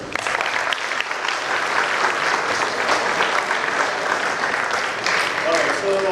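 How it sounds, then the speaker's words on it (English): Lecture-hall audience at a guest lecture on the insurance sector at IMT Nagpur breaks into sustained, even applause, with a voice audible alongside the clapping. "So I think you should give a round of applause for yourself."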